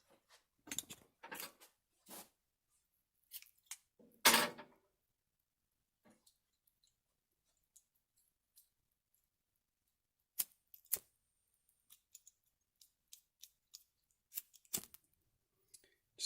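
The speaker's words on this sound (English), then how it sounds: "I think I'm gonna just cut a piece of paracord, call it an even foot, and tie that on the end." Scissors cut a length of paracord, producing scattered sharp snips and clicks with quiet gaps between them, close and fairly faint.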